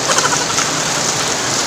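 Rain pours steadily on a rainy morning, a dense even hiss of drops on surfaces, close and continuous with no talking.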